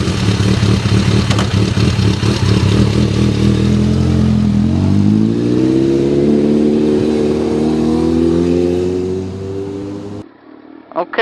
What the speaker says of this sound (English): you need to take the bike for a ride about 4 to 6 miles after you do the initial filling of the Ride-On